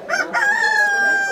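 A rooster crows once at a chicken market, a loud, close, drawn-out call that starts with a couple of short notes and then holds a long sustained tone.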